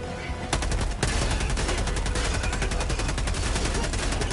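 Sustained automatic gunfire in the video game Helldivers II, a dense, continuous burst of rapid shots that kicks in loudly after a brief lead-in and keeps hammering without pause.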